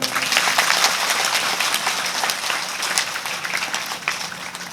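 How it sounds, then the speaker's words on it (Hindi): An audience claps together at a religious discourse in Medani Nagar, Khagaria, a dense steady applause that fades slightly toward the end, with no talk over it. "ताली बजा दो।"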